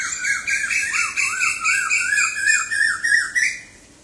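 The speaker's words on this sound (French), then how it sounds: "Nous sommes accompagnés par les oiseaux." Birds call in a steady run of bright, squawking chirps, repeated rhythmically and fairly close, with no other sound beneath them until the calls thin out near the end.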